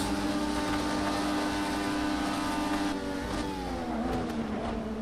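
A Dallara IR12 IndyCar engine drones at high revs in the Project Cars 2 racing game, a steady loud whine that shifts pitch as the car changes gear, with no speech.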